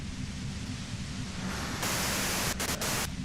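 Dense radio static hisses continuously in Disco Elysium, loud and broadband, swelling brighter partway through and cutting in and out in brief dropouts near the end.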